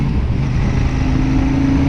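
A Royal Enfield Super Meteor 650 motorcycle with Interceptor mapping drones steadily while being ridden, a loud continuous low engine hum with a faint rising tone near the end.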